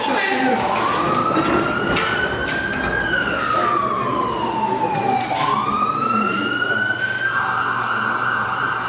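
A wailing ambulance siren sweeps up and down in long rising and falling tones, loud and close, continuous for the whole stretch over steady traffic rumble.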